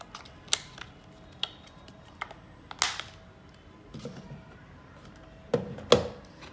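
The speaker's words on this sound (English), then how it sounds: "You push the cover back in." Several isolated plastic clicks and taps spread out over a quiet background, ending with a couple of louder snaps close by as the battery cover of a Tuelip digital clock is pushed back in.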